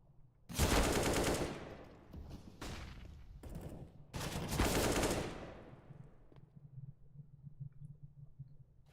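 Bursts of automatic gunfire from a Counter-Strike esports match, two loud sustained volleys with shorter bursts between them, followed by quieter clicking and low rumbling.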